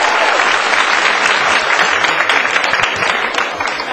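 A crowd at a pool championship final bursts into loud, sustained applause and cheering that fills the whole moment, dense and continuous, with a commentator's voice faintly underneath.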